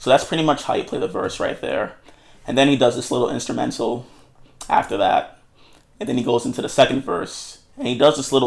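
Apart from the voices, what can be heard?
No everyday noises stand out.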